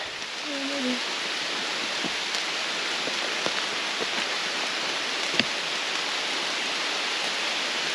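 Steady rain pours down on a logging road along the Appalachian Trail in Vermont in a continuous hiss, with a few sharper drips and taps standing out now and then.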